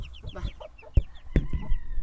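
Hen and chicks clucking and cheeping close by, with repeated short peeping calls and a couple of sharper clucks among soft chatter.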